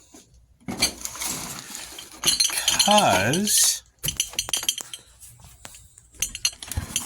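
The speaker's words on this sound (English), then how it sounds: "Get the cat box, and yes, there is glass in here" Loose glass pieces inside a cat box clink and jingle in several short bursts as they are shaken and handled close by, with a person talking in between.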